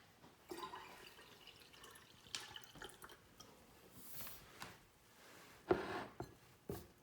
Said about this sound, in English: This is just regular water from the tap that I'm going to add in here.